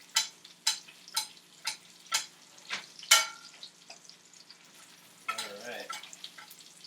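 Salmon pan-sears in melting butter with herbs, a soft sizzle broken by regular short scraping bursts, then a steadier crackle toward the end, close by with no talk.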